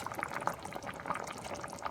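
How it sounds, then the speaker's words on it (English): Water boiling in a pot on the stove for a macaroni, ground beef and potato soup, a steady close bubbling and roiling with small pops running throughout, no voices. "you boil the water"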